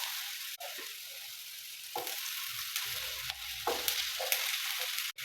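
Lentils frying in a pan give a steady, close sizzle throughout, with a few soft stirring scrapes and clicks breaking the hiss.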